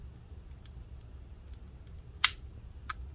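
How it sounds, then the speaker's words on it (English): A sealed plastic USB remote casing being pried apart, giving one sharp, close crack of breaking plastic followed by a smaller snap, over a quiet background. "No, the plastic is just breaking here."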